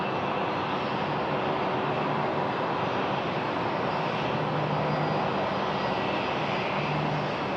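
An airliner on takeoff from runway 34 left at Sydney Airport, a steady, loud engine roar filling the whole stretch without letup, no voices heard.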